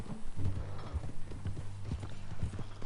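Horse hooves clip-clopping at a steady walking rhythm in the video game Red Dead Redemption 2, close and fairly loud, with faint game ambience behind.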